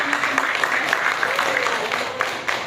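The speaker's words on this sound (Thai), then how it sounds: "อาจารย์ขอเสียงปรบมือ ต้อนรับเนาะ" Clapping welcoming guests at a gathering of visually impaired children, a steady patter of many hands at close range continuing throughout, with a faint voice beneath it.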